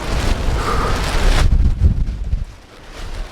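Strong wind buffeting the microphone on the summit of Mount Bismo, a loud roaring gust that drops off sharply partway through and then rumbles on more quietly.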